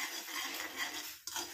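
A spoon stirring henna, amla and bhringraj hair powders in a bowl, a soft continuous scraping with a small clink near the end, close and quiet, with no voices.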